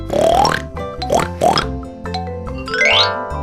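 Three short, snorting pig oinks come in quick succession over playful background music that keeps running afterward.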